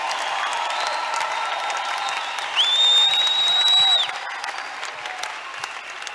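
A church congregation at a Pentecostal service claps and cheers loudly for the Lord, a steady dense wash of applause with a shrill sustained whistle or whoop rising over it midway before the noise settles.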